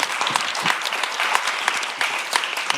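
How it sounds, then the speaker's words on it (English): An audience at a panel discussion claps in steady, dense applause, close and fairly loud, without cheering or voices standing out. "please join me in giving a nice round of applause to our panelists."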